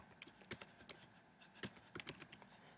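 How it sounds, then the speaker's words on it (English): Typing on a computer keyboard: a quiet, irregular run of light key clicks in small clusters, heard close and alone. "You can type in your book review here."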